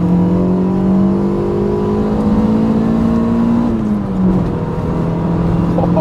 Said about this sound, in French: Le turbo qui se déclenche à 2000